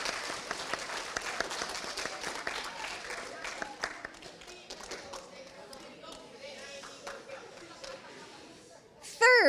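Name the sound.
audience applause for the chaperones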